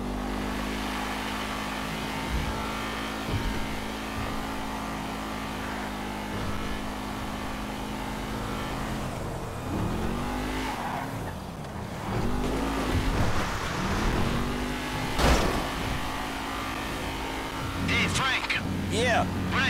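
Cars driving in GTA 5, a steady engine drone with revving and tire noise running throughout, occasional louder passes, while voices talk over it.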